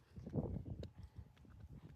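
A horse carries a rider along a rural track, its hooves clip-clopping in a quick uneven rhythm, close and fairly soft, with light ambient noise around.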